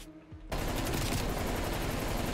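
Loud, continuous automatic gunfire from a QBZ-83 in Call of Duty, cutting in abruptly after a brief quiet moment and hammering on steadily at close range.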